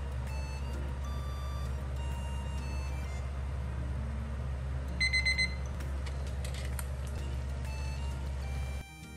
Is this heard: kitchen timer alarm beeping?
yes